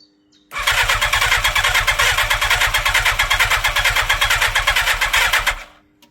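A 1987 Yamaha FZR1000 motorcycle engine cranks on the starter for about five seconds in a steady rapid chugging rhythm without catching, then stops, close and loud with no talk.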